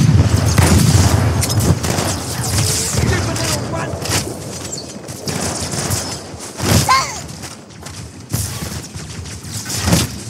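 Sniper rifle shots ring out in Halo 2 amid heavy surrounding gunfire and booming explosions, loud and busy, with a voice speaking over parts of it.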